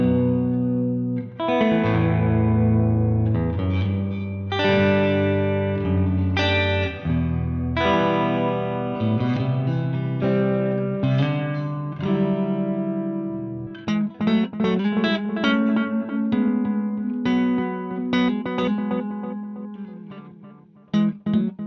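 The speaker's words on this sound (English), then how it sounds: "it's a pretty cool sounding fuzz too" A fuzz guitar pedal, one of the top pedals of 2024, drives a guitar through a thick, saturated distorted tone: sustained chords and riffs ring loud and close throughout, with a busier run of picked notes in the second half.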